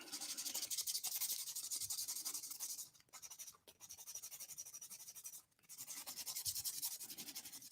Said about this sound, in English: This is some sanding ASMR for you guys.